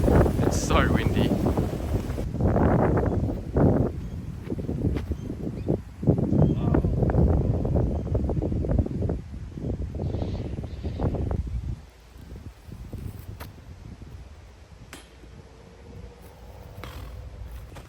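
Strong wind buffets outdoors on a golf practice round at Weston Park, loud gusty rumbling against the microphone for most of the time, easing toward the end, with people talking over it.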